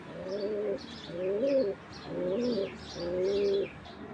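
Pet pigeons coo in a row of four repeated throaty phrases, each roughly a second long with brief gaps, close and clear against a quiet background.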